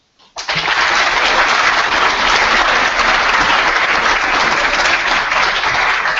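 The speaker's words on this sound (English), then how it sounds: "give our panelists a round of applause" An audience at a public debate on Israel and apartheid breaks into applause for the panelists, starting abruptly and holding as a loud, dense, sustained wall of clapping.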